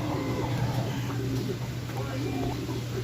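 Young racing pigeons just let out of their loft coo softly around the yard, low murmuring calls under continuous background noise.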